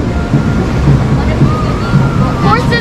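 Water sloshes and splashes over riders on the Kali River Rapids raft ride at Disney's Animal Kingdom in Orlando, a steady rushing wash with several bursts, voices faintly underneath.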